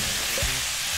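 Sizzling pork jeyuk stir-fry in a hot pan with a brief hiss as soy sauce hits the meat, a steady close frying crackle throughout.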